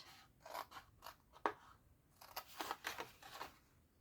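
Scissors snip through paper for a gift box in a quiet room, a series of short, crisp cuts with brief pauses between them, close and faint.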